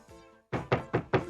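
Knocking on a door in a cartoon, four firm evenly spaced knocks close by after a short fading tone.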